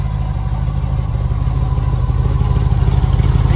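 A Dodge V8 with short factory side-exit exhaust pipes dumping just ahead of the rear wheels runs steadily close by, giving a loud, deep, lumpy rumble with rapid low pulses.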